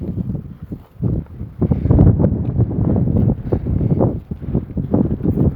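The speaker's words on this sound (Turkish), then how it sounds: "Rüzgar da esiyor arkadaşlar." Gusty wind buffets the microphone in loud, rumbling surges that rise and fall, with a faint rustle underneath.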